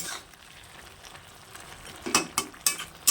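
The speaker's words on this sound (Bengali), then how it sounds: "এটা কিন্তু আমি রাঁধুনি ফোড়ন দেব" Radhuni spice seeds sizzle in hot oil for a curry in a home kitchen, a faint steady crackle that swells into several sharp bursts of spitting near the end.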